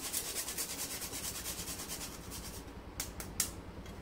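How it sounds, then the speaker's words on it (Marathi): Nutmeg grated by hand into besan ladoo mixture, a close run of quick, even rasping strokes that thins out into a few scattered scrapes. "आता याच्यामध्ये 1/2 चमचा जायफळ असं किसून घालायचंय।"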